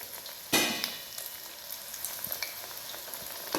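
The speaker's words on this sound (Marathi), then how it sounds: "मीडियम गॅसवरच आपल्याला सारे वांगे तळून घ्यायचे." Eggplant fritters fry in hot oil over a medium flame, a dense steady sizzle with a sharp hiss as a piece drops in and scattered small pops after, close and with no voices.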